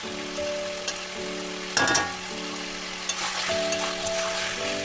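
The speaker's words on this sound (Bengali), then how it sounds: "ভালো করে আমি আরও একটু কষিয়ে নিলাম যাতে মাংস থেকে তেলটা ছিঁড়ে যায়" Village chicken curry meat sizzles and fries in a pan as it is sautéed, a steady crackling hiss with a few sharper scrapes and clatters of stirring, close up and with no talking.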